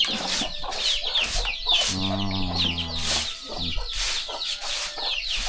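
Chickens cluck on a rural farm in southern Laos, a run of clear, fairly close clucks rising into a drawn-out squawk midway over a steady outdoor background of other farmyard birds.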